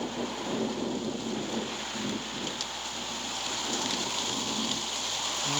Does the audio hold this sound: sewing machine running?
no